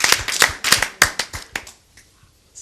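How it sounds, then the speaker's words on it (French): A few people clap in short uneven bursts, several sharp hand claps over roughly a second and a half that thin out and fade to near silence. "Moi, je vous applaudis. Je vous applaudis."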